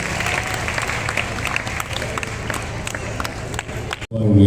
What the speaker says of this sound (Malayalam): ഇവർക്കൊരു നല്ല കൈയടി കൊടുക്കുക എല്ലാവരും